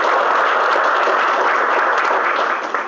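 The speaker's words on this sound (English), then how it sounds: "once more, a big round of applause for Dr." Full audience applause after a talk at an India trading conference, a loud, even roar of many hands clapping continuously for about three seconds before tapering slightly at the end.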